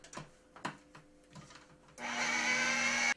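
Vanilla extract is blended into mocha buttercream frosting: a few soft clunks, then an electric mixer whirs steadily and fairly loud for about a second before stopping.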